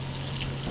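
Running water rinses a hot tub filter, a brief steady splash and flow over a low constant hum, close and fairly quiet.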